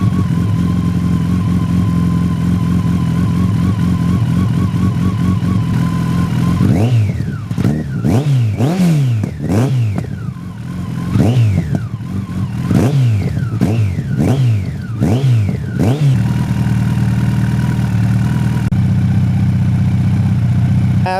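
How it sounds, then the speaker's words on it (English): A 2007 Yamaha FJR1300 sport-touring motorcycle engine idles steadily, then revs repeatedly in sharp rising-and-falling bursts before settling back to a loud, close, steady idle, with no talk. "What you have to do is hit start, and the bike comes to life."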